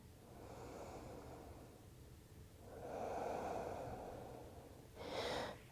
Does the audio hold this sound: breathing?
yes